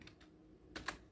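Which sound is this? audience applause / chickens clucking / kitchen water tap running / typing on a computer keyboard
typing on a computer keyboard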